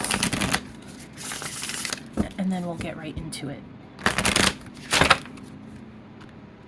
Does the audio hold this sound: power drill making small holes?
no